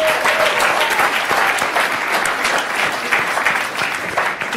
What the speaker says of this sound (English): A round of applause for Relly's husband